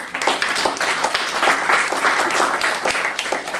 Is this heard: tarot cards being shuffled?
no